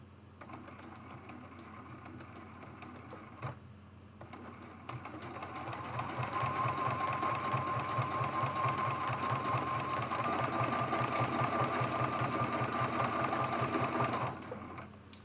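A sewing machine stitches an autumn mug rug with leaf fabric, starting with a few quiet stitches and pauses, then speeding into a loud, steady, rapid run of needle strokes before stopping.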